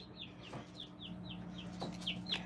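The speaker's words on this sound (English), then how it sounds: "I'll show y'all the super chick, or I call it a super chick" Newly hatched chicks peep in a box, a run of high, thin downward-sliding cheeps repeating quickly and close over a low background hum, with no talking.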